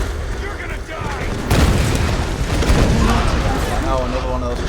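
Repeated explosions in a video game boom loudly and densely, with a sharp onset partway through followed by sustained rumbling blasts and crackle, mixed with game noise.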